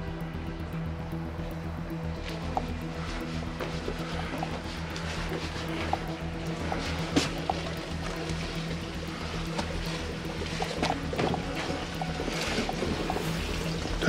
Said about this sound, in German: Das ist ein Wasserfall.